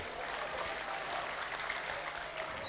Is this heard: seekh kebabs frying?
no